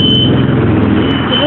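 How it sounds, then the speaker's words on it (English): Fire alarms sound loudly and continuously in a house, a steady high electronic tone held over a dense, rumbling background with people talking. "The alarms are going off."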